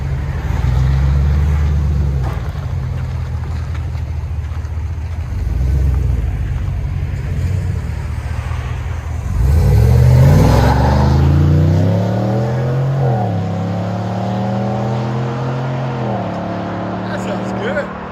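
A 2021 Chevy Silverado RST Z71 with a 6.2L V8, dual exhaust, Vibrant bottle-style muffler and resonators, idling with a deep steady rumble, then revving in several rising and falling throttle blips, loud and close.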